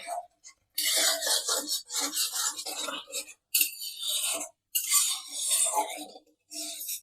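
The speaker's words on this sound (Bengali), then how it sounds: "এবার এই মশলাটা খুব ভালো করে কষিয়ে নিতে হবে।" Spice paste with tomato being stirred and fried in a pan for hilsa curry, giving a close, intermittent rasping scrape and sizzle in bursts with short pauses, no talk.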